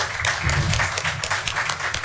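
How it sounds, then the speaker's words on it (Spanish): A seminar audience claps for a speaker, dense sustained applause that stays loud and close throughout. "yo les pediría un aplauso fuerte al maestro Antonio"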